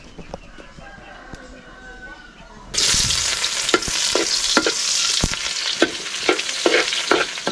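Garlic and onion hit hot oil with a sudden loud sizzle partway through, then keep frying steadily under repeated sharp clicks of a utensil stirring the pan, after a quieter stretch with a voice talking.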